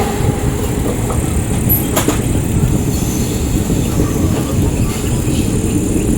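Inside the Kacheguda Express passenger train running from Pondicherry towards Kacheguda, a steady, loud rumble of wheels on rails carries on throughout, with one faint clack partway through.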